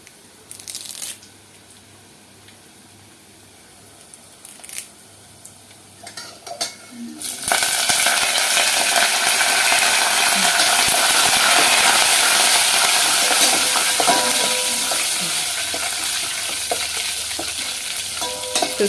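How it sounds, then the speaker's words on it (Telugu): Fresh curry leaves hit hot tempering oil for vakkaya pappu, a quiet stretch breaking into a loud, steady sizzle and crackle of frying that continues throughout with occasional stirring clinks. "ఇవి వేగుతున్నప్పుడే మనం కరివేపాకు కూడా వేసేసుకుందాము"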